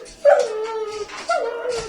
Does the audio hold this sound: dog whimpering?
yes